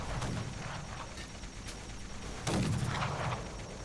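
Gunfire in the video game Fallout: The Frontier, dense booming shots rolling over a constant rumble of combat, with a heavier blast about midway, loud and continuous.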